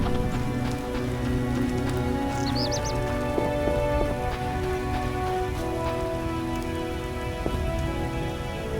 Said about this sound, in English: Rain falling from the